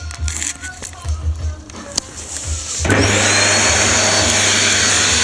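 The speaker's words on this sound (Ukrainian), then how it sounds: "Включаємо пилісос." Vacuum cleaner blowing air through a filed-down K126B carburetor: after a few seconds of faint handling knocks and clicks, the motor switches on and settles into a loud, steady roaring whoosh to the end.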